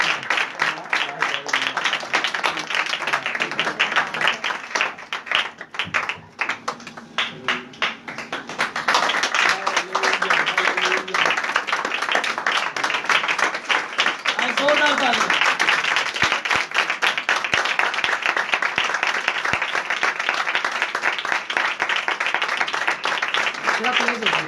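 Loud, sustained applause for a musician at a church gathering, with dense clapping running steadily for many seconds under a bright crowd wash, and voices and singing woven through it.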